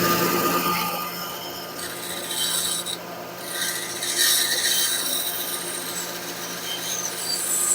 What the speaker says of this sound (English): Just get close and let the sandpaper do the work.